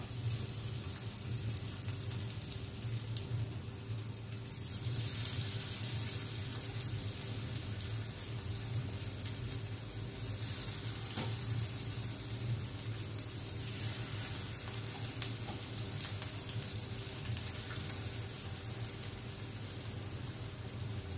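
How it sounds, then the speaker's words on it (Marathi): Spinach and jowar vadas fry in hot oil on a nonstick tawa, a dense, continuous sizzle like steady rain that swells slightly after the first few seconds and holds evenly. "आपण इथे नॉनस्टिक तवा घेतलेला, त्याच्यामध्ये आपण तेल ठेवलेलं गरम व्हायला। आता हे जे वडे आपण थापून घेतले ते आपण असे सोडूया याच्यात।"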